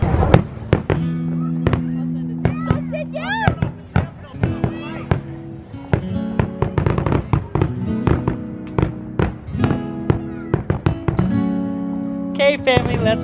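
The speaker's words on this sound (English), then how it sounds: "let's watch these fireworks" Fireworks crack and pop repeatedly over several seconds at a summer backyard party, sharp bursts in irregular clusters, with voices and a steady hum running underneath.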